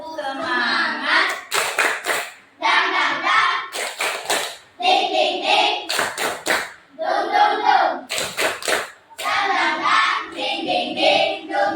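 Schoolchildren in a classroom beat out a rhythmic group hand-clapping routine, sharp clusters of claps alternating with their voices chanting in time, loud and close.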